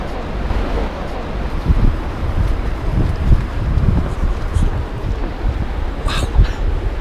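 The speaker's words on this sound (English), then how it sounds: "It's windy, it's cold." Strong cold wind in Iceland buffeting the microphone with a continuous low rumble and gusts, a roar like distant surf beneath, and no speech.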